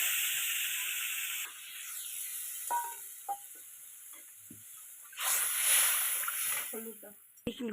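Mustard and poppy seed paste hits a hot pan with ginger paste, giving a bright hissing sizzle that fades, then scraping stirs and a second loud burst of frying, close up.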